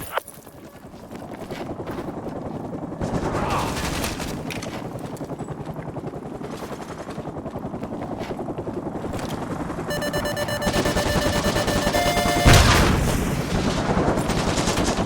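Sustained gunfire and a helicopter in the video game MW2 Remastered during a U.S. under-attack battle, with loud bursts of shots over a steady rotor drone and a beeping alarm-like tone later on.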